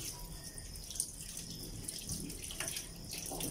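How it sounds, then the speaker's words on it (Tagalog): Tap water runs steadily into a sink as leaves are rinsed for a rural Camarines Norte ginataang lubi-lubi dish, a soft continuous splashing with small drips and handling noises, fairly close and quiet. "hugasan natin ang ating mga dahon"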